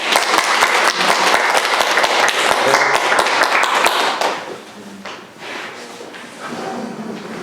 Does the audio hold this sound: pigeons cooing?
no